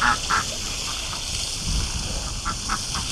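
Ducks and geese honk and squawk in short bursts, several calls scattered over steady background noise, fairly close.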